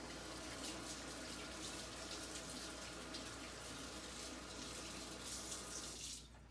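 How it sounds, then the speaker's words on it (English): Tap water runs steadily into a kitchen sink while vegetables are rinsed, a continuous close hiss of flowing water that cuts off abruptly near the end. "Last rinse."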